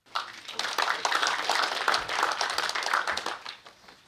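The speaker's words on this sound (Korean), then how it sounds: "큰 박수로 환영해 주시기 바랍니다" Applause at a Korean association's annual general meeting and leadership handover ceremony, a dense burst of many hands clapping that swells quickly, holds steadily, then fades toward the end.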